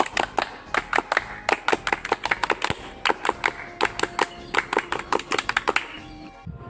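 A group of Pramuka scouts claps the scout clap twice: two runs of sharp, quick hand claps in a set rhythmic pattern, close and crisp, with a brief pause between them.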